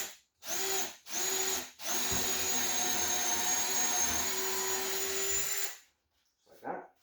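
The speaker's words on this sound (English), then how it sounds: "I'm just going to drill through, straight up and down on each hole." A power drill whines in a short burst, pauses twice, then runs continuously for several seconds boring straight through wooden boards before stopping; a brief scrape follows.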